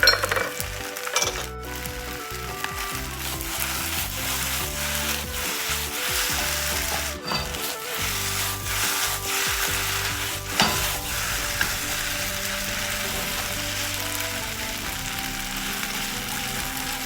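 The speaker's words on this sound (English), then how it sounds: "I'm going to sear it a little bit more, that way I can smell the aroma of it." Flat rice noodles searing and being stirred in a hot pan for pad see ew with shrimp, producing a continuous loud sizzle with rhythmic scraping and tossing, up close with no speech.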